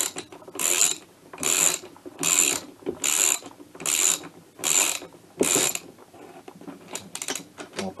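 A bolt on a Yamaha DT engine being tightened with a ratchet wrench, seven even bursts of rapid clicking about a second apart, close and fairly loud, then looser scraping clicks at the end.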